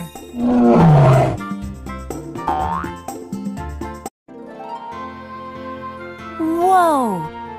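A cartoon tiger from the Tayo the Little Bus kids' show lets out a loud, growling roar over bright background music, alongside other playful cartoon sound effects.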